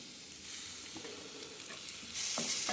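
Onion browned in a pan with turmeric and ginger-garlic paste added, stirred and frying with a steady sizzle and scraping strokes of a spoon, close and alone with no voices.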